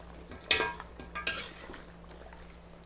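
A spoon stirring pork rib kaldereta in a pot gives two distinct scraping clinks against the metal, close by, over a quiet background with no talk.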